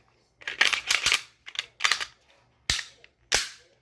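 A SIG M17 pistol slide and recoil spring rod being reassembled, a series of sharp metallic clicks and snaps close up, spaced irregularly with quiet gaps between.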